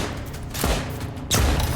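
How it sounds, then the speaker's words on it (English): Gunfire against a turret in the video game Lost Skies: a couple of sharp bursts, one around the middle and a louder one near the end, over a constant game-world background hum. "And now it only takes us 3 easy shots to take care of those"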